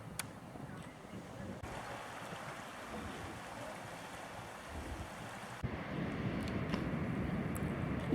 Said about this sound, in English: I wanted to stop by the ocean